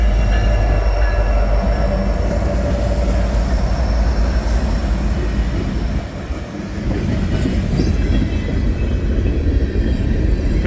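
Freight train with KCS boxcars rolling past in Illinois, a loud, close, continuous rumble of wheels and cars with faint clatter, dipping briefly before resuming, no voices.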